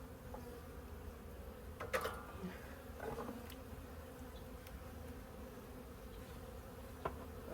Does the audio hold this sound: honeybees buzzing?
yes